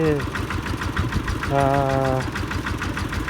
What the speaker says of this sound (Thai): ตั้งสูบน้ำใส่มะลินะครับ นี่ครับบ่อน้ำหลังบ้านนะครับ นี่ครับ เครื่องคูโบต้าอย่างดีนะครับ